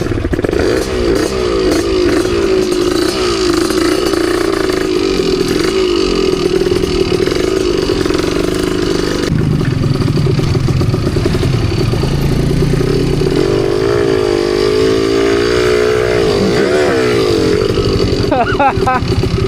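Motorcycle engine running steadily during a downhill ride from the Pha Sing viewpoint, a continuous mid-pitched drone that shifts in tone, with clatter and people talking over it.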